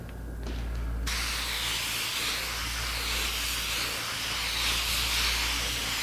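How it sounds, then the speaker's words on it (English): A spray gun applies wood dye to a hanging cupboard in a woodworking shop with a continuous loud hiss that starts about a second in and runs steadily, over a low background hum. "Again, it's dye. I'm spraying."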